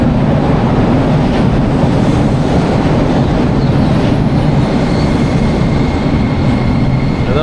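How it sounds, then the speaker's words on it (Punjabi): A train arriving at a station in Japan rolls by with a loud, steady rumble and roar, a faint metallic squeal rising above it, close by and uninterrupted. "ਟ੍ਰੇਨ ਆਣੇ ਵਾਲੀ ਹੈ"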